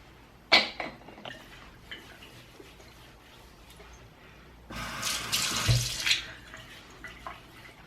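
Tap water runs into a sink while a face is washed with Neutrogena Bright Boost: a brief splash early, quiet gaps with small sounds, then a louder stretch of running, splashing water near the end, no talking.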